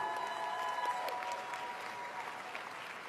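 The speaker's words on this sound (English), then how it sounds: "A big round of applause for our party." Steady applause fills a party leadership convention hall as a large crowd claps continuously at moderate level, with a few sharper claps near the front.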